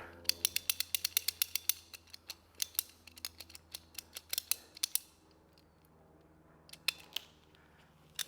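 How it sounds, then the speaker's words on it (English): A pipe cutter cutting pipe while fitting a solar hot tub heating kit: a rapid run of sharp, close clicks that slows to sparse, scattered snaps, with no talking. "So we can cut the pipe here and add some fittings onto that just to bring us back out. So with a pipe cutter,"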